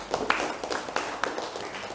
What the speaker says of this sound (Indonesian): Oke, boleh tepuk tangan untuk Dea Agatha.